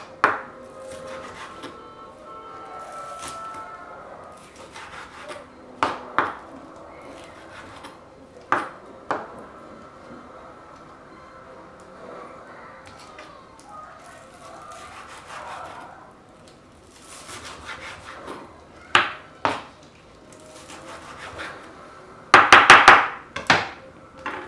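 A knife chops green onion and avocado on a cutting board, with scattered sharp taps, a few isolated knocks, then a quick burst of rapid chopping near the end, close and clear with no talking.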